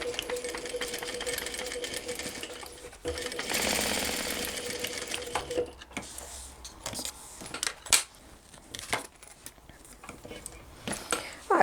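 A sewing machine stitches a vinyl cross body bag in short bursts, with a busy mechanical whir broken by pauses and small clicks and knocks as the fabric is handled.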